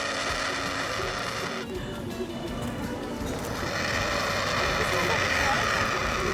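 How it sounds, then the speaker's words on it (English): A helicopter on a sightseeing ride over Brisbane, with a loud, continuous rotor and engine roar filling the cabin without a break. "We are doing the helicopter ride right now."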